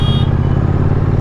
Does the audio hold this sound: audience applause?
no